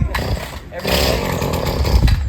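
A lawnmower runs loudly and steadily close by, with a rough engine roar that carries through the whole stretch while a voice talks over it.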